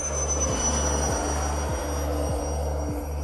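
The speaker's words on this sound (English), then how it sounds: "After a 9-minute flying show, the fighter jet gets ready to land." Model F-15 fighter jet with a kerosene turbine coming in to land, a steady turbine whine and drone with regular throbbing pulses, heard from a distance without any talk.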